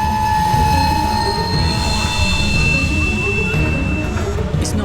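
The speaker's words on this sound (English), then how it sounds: "he then stopped the train at the next signal" A train slows to a halt at a railway signal, its steady rumbling roll overlaid by thin, sustained wheel squeal throughout.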